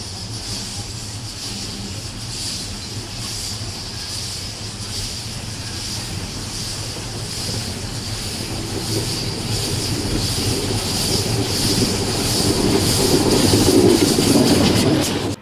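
Steam locomotive No. 20 hauls a train through the Achertal in autumn, giving a steady rumbling run with rhythmic wheel clatter that grows louder and nearer over the stretch, with some light squeal.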